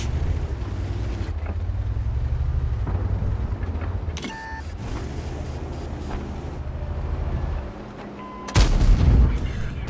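Tank cannon fire in World of Tanks on the Cliff map, with a heavy engine rumble underneath, clanks of shells bouncing off armour, and one loud booming shot near the end.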